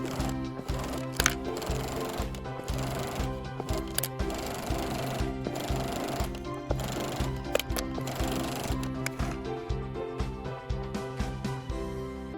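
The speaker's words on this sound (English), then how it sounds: "sew along the top edge with a 1/4 inch seam allowance" A sewing machine stitches a quarter-inch seam along the top edge of a fabric dog bandana, a fast, steady mechanical clatter of needle strokes, close and continuous for the whole stretch.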